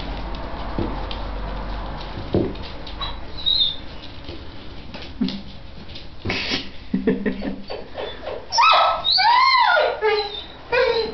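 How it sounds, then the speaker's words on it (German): A five-week-old puppy whines in short, rising high-pitched yelps that grow louder near the end, amid scuffling and rustling close by. "Wissen jetzt, dass du jaulen kannst."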